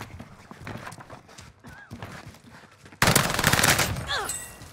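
Bursts of rapid gunfire in a Warzone match with the M4A1, growing loud and dense after a stretch of quieter in-game noise and footsteps, with a brief voice over the shooting.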